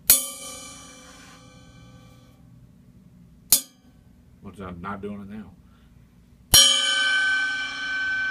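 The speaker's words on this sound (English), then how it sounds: "it spins the whole way around until the edges of the cymbal start to vibrate" A cymbal struck three times with ringing, shimmering decays that swirl as the edges vibrate, close and loud, with a brief stretch of speech between strikes.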